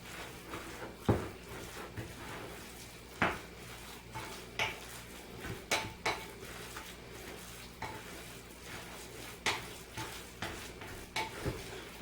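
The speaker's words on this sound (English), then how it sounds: "Be sure and mix it thoroughly. You want to get those spices spread out really nicely." Spinach and Italian sausage ravioli filling being mixed in a bowl, with repeated clanks and scrapes of a utensil against the bowl in an uneven rhythm over faint background noise, no voices.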